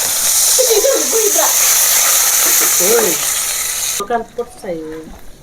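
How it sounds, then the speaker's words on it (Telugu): Coriander and curry leaves frying in hot oil for a village-style mixed biryani give off a loud, continuous sizzle with stirring, and a voice talks briefly over it near the end. "ఫస్ట్ ఆయిల్ వేసుకోవాలి కొత్తిమీర కరివేపాకు"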